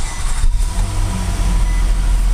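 A 2012 Nissan Maxima engine fired up with its push-button start, settling into a steady low hum heard close inside the car, with no talking.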